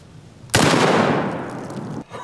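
A .308 rifle fired into a bulletproof board: one sharp, loud gunshot crack that bursts in suddenly and rolls off in a long decaying echo, followed by a faint rustle.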